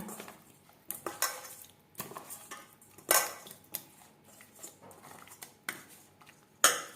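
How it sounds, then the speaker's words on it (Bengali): Bata fish is mixed by hand with salt and turmeric powder in a bowl, giving irregular wet slaps and clinks against the dish, close and fairly quiet with no talking. "লবণ হলুদ মাছে বেশ ভালো করে মেখে নেব"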